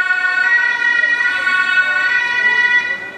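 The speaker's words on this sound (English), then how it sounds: "and an ambulance." A loud ambulance siren wailing steadily and close by, a sustained tone that fades slightly at the end.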